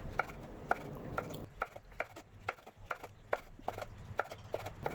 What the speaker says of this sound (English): Then you julienne cut them.